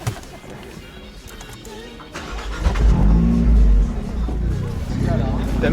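Abarth 124 Spider engine starting up and revving outdoors, a deep throaty burst rising to a loud sustained rumble after a couple of seconds of quiet, with voices nearby.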